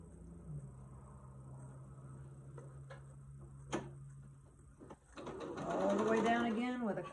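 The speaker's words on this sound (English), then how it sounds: "I'm just gonna sew these to probably this side." Sewing machine stitching scrap fabric strips together for a hot pad, a steady mechanical hum running for several seconds, then a click as it stops, followed by someone talking up close.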